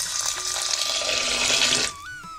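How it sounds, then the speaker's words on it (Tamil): Water runs steadily from a tap into a pot of lentils for about two seconds, then the flow cuts off. "பருப்பு வந்து முழுகிற அளவுக்கு தண்ணி சேர்த்துக்குங்க"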